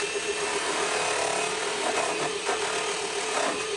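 A polishing mop on a lathe buffs a thuya wood click pen with Menzerna M5 Super Finish White compound, giving a steady, close whirring hiss with faint rubbing variations throughout and no voices.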